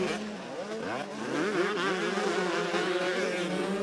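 Several 33-year-old 125cc two-stroke motocross bikes race on the dirt at Foxhill, their high, buzzing engines revving up and down in overlapping wails as riders take a big step-down jump.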